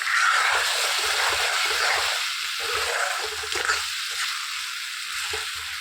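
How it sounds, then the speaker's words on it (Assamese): Onions and spices sizzle in a pan with a little added water, a soft hiss and bubbling, steady and close, slightly louder at first, then settling into a gentler fry. "অলপ পানী দি ভাজিলোঁ"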